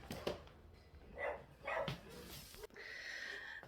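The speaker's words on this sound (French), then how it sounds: "les chiens aboient parce que ben, y a des gens qui passent" Several dogs barking at people passing outside a home, a few separate bursts of moderate, mid-distance barks with some quieter whimpering between them.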